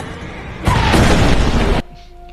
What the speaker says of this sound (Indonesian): Dari kejauhan, mereka menembakkan meriam tank ke arah Atami.